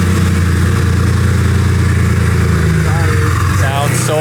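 An RWB Porsche 911 engine runs steadily and loudly at close range, a continuous low rumble throughout, with people talking over it.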